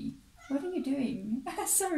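A pet cat meows for attention indoors, giving a few drawn-out, rising and falling calls that are mixed with and partly masked by someone talking.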